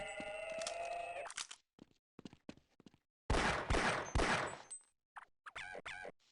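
Gunfire in Half-Life: Blue Shift comes in several bursts, close and loud, separated by short gaps and mixed with game effects.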